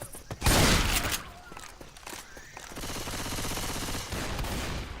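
Shotgun fire in the zombie shooter game Left 4 Dead 2: one loud close blast near the start, then a busy stretch of rapid repeated gunfire with a faint voice in the mix.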